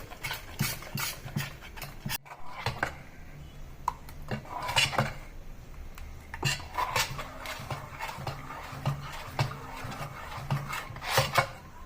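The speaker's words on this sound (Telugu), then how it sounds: "ఇదిగో చూడండి మనకి ఈ కన్సిస్టెన్సీ వచ్చే వరకు పిండి కలుపుకోవాలన్నమాట" Gram flour batter for boondi mixed by hand in a bowl, a continuous close wet squelching and scraping with irregular rhythmic strokes.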